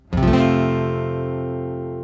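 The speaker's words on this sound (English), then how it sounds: "It is the full F bar chord." A full F barre chord strummed once on guitar, low F in the bass with the high strings together. It rings out clear and close, then sustains and slowly fades alone.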